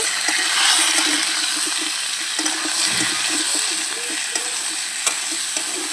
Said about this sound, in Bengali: আমি অল্প একটু লবণ দিয়ে সবজিটাকে ভালো করে কষিয়ে নেব